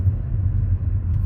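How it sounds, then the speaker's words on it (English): Low, steady car engine rumble during a driving lesson in Bradford as the learner gives gas while changing gears, heard from inside the car with no talking. "You're giving gas while you're changing gears"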